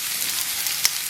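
Onions sizzle and fry in a pan while being stirred, a bright, steady crackling hiss up close with one brief sharper scrape near the end.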